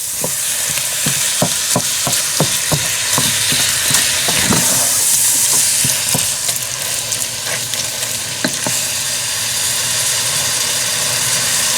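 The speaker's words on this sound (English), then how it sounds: "So I'm going to brown this up real quick." Ground turkey burger meat browning in a pan, a steady loud sizzle and fry with repeated scraping and stirring clicks from a utensil, close up and without talk.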